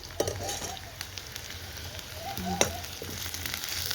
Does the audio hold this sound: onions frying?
yes